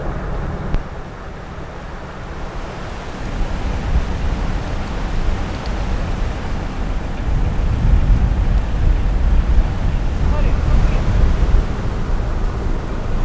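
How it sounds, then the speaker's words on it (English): Strong wind buffeting on the Llangollen Canal near a lift bridge, a loud, continuous broadband roar with gusts swelling toward the end, no voices. "It's still pretty windy approaching Hassel's number two lift bridge."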